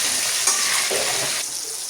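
Meat frying with masala in a pan, a loud continuous sizzle close up with stirring scrapes partway through, no voices.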